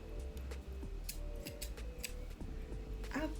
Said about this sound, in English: I'll cut this month's stickers.